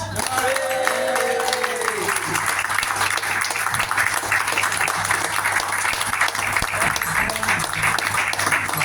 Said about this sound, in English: Give me a applause, Steve Carney, everybody.